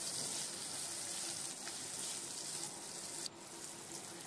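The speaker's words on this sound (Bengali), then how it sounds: "এবার আলুগুলো আমি একটু ভেজে নেবো আগে।" Chopped potatoes fry in a little oil with salt and turmeric for a mutton-fat ghugni, a soft, steady sizzle heard close but quiet, with a brief clink near the end.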